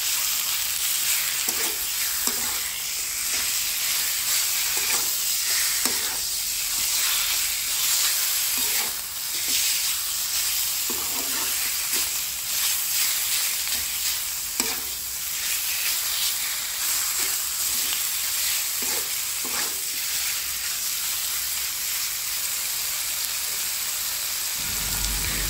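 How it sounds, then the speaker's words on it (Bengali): Minced meat frying with spices in a pan for chicken balls, a steady loud sizzle running throughout with scattered scraping stir strokes, no voices. "নেড়েচেড়ে এখন সমস্ত মশলাগুলো গোসের সাথে ভালোভাবে মিশিয়ে নেব।"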